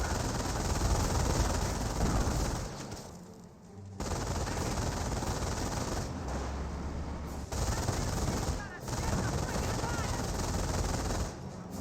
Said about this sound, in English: Rifle squad gunning down the Wehrmacht medic and will gun him down.